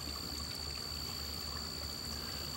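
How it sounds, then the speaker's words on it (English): A brook flows past small dams near Horn Pond, giving a steady, quiet trickle and gurgle of running water that continues evenly throughout. "I took another look at the dams on the brook."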